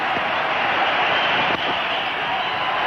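Broadcast crowd noise at a 1997 India vs Sri Lanka cricket match as a batsman, bowled out, walks off: a steady, loud wash of cheering and applause from a large stadium audience, unbroken throughout.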